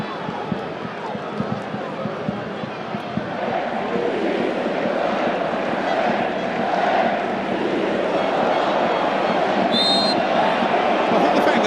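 Football stadium crowd at a World Cup 2026 match between France and Ivory Coast, a loud, steady roar of massed voices rising slightly after a few seconds and holding throughout, with a brief whistle-like tone near the end.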